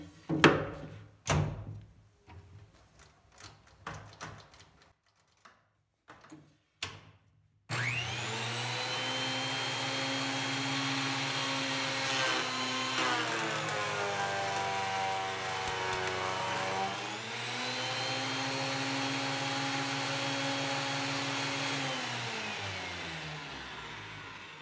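A DeWALT DW733 thickness planer feeds a wood board through in a loud, steady machine roar that starts abruptly after some quieter knocks, its pitch sagging briefly mid-pass before recovering.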